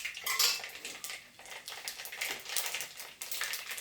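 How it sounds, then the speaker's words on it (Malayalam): A metal spoon clatters and scrapes repeatedly against a pan while garlic, ginger and green chillies are sautéed in hot oil for an egg roast, busy close-up clinking over a faint sizzle. "ഇതിപ്പോൾ നന്നായിട്ട് എണ്ണയൊക്കെ കാഞ്ഞിട്ടുണ്ട്. ഇനി നമുക്കെല്ലാം ഒന്ന് വഴറ്റിയെടുക്കാം."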